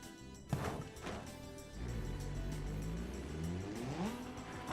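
A turbocharged 4-cylinder 1980s car engine revs on a racetrack in the driving game BeamNG, climbing in pitch through steady, rising strain after a short sharp knock, moderately loud and close.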